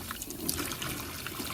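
Tap water running over hands being rinsed, a steady close trickle and splash that lasts the whole short moment, no voices.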